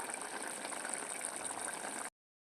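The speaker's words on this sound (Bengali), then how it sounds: "আরেকটু ফুটিয়ে নেবো" Mutton curry bubbles in a kadai with a steady, close boiling and simmering sound. It runs alone for about two seconds and then cuts off abruptly.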